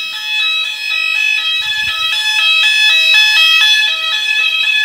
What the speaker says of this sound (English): This is a fire alarm.